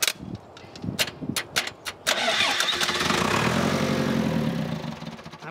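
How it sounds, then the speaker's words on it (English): A cheap telehandler's diesel engine cranks with several sharp stuttering bursts, then catches and runs with a steady rough roar as fuel is given, close and loud, without speech. "Give it some fuel, Hank."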